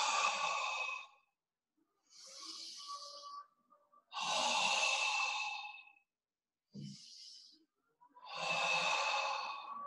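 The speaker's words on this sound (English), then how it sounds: "Really breathe out." Deep slow exhalations during a tai chi breathing exercise, about five long airy breaths out spaced a few seconds apart, close and soft with silence between.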